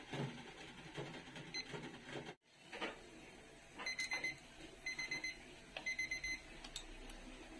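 A kitchen timer goes off after a 20-minute countdown while steamed lapu lapu cooks, beeping in quick repeated bursts over a faint background hum.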